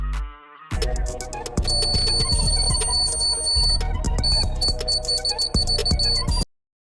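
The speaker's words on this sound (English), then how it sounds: "Operate buzzer by touch sensor." An electronic buzzer triggered by a touch sensor in a small circuit sounds in rapid repeated bursts and pulsing beeps, loud and close, then stops abruptly.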